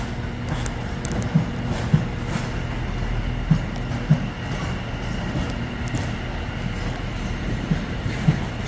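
A West Midlands Railway train pulls out of Birmingham New Street bound for Wolverhampton, a low steady rumble with periodic wheel clicks over rail joints, heard from the platform at moderate distance.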